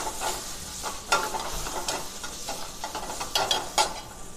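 Tomatoes sizzle in a pan with frying onion and ginger garlic paste for a paneer masala, a steady hiss broken by irregular scraping stir strokes, close and fairly loud, with no talking.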